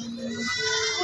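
Goats bleating at a goat contest in Pacitan, Indonesia, one close, loud, wavering bleat filling the moment over a busy crowded background.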